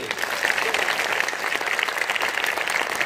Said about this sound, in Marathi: आई बाबासाठी टाळी